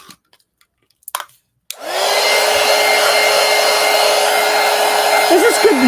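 After a few faint clicks and taps, a hair dryer switches on to dry a collage journal page, a loud, steady blowing roar with a constant whine that holds for about four seconds, wavering slightly at the end.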